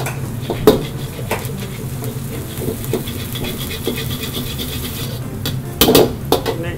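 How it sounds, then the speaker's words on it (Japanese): Aromatics with Sichuan doubanjiang stir-fried in a wok for seafood mapo tofu, a continuous sizzle under repeated scraping strokes of a utensil against the pan, with a few louder clanks near the end. "これをしっかりと香りが出るまで炒めていってあげます"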